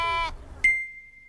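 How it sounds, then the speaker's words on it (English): A sheep on a farm gives a short, clear bleat up close, followed after a brief pause by a thin electronic beep that holds steady to the end. "Look. Sheep."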